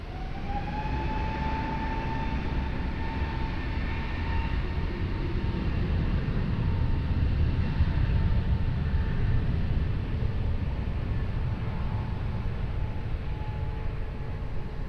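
A jet airliner takes off from runway 20 at Lisbon Airport with a steady, broad engine roar and a rising whine, heard from a distance for the whole stretch without a break.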